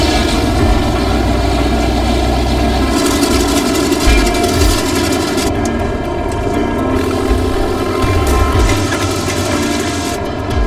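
A plane engine runs with a steady, loud, droning roar before takeoff in cold Northwest Territories winter weather, with temperatures near minus 40. Its rich hum holds constant for about ten seconds, with no voices.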